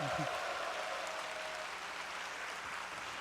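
Audience in a church at an army training center applauding together, a broad steady wash of clapping filling the room at moderate loudness, with a brief voice near the start.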